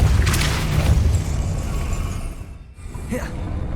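A Depulso spell cast in the Hogwarts Legacy video game lands as a deep booming burst with crackling debris, fading into a softer whooshing tail.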